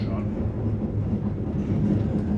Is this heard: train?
yes